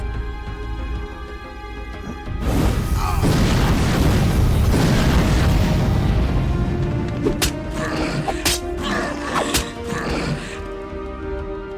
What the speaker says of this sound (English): Move and cast magic missile.